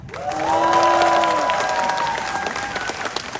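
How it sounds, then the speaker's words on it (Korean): Audience applause for the production team at a charity concert, a broad steady clapping from the crowd with a sustained tonal note ringing over it early on, fading slightly toward the end. "우리 제작진분들께도 박수 한번 드릴까요?"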